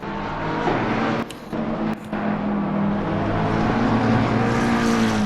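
A race car in the Assetto Corsa Competizione video game at Spa drones steadily while pulling into the pit lane, its loud engine whine nearly constant with two brief dips.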